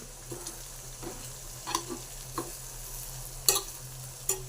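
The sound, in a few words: stirring potato fry curry with chili, turmeric, coriander powder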